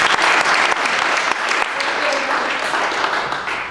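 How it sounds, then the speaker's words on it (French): Audience applause at an evening public meeting, dense clapping from a moderate crowd, strong and steady before easing slightly toward the end. "on peut l'applaudir quand même."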